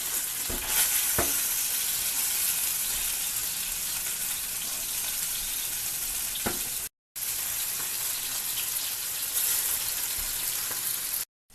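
Fish frying in a pan over a village kitchen fire, a steady loud sizzle running throughout with a few sharp clatters as pieces are flipped, cut by a brief gap of silence.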